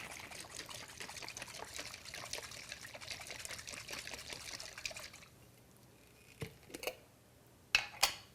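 Salad dressing with onion powder sloshes and rattles as its container is shaken, a steady muffled swishing for about five seconds before it stops, followed by a few sharp knocks and clicks as the container is handled.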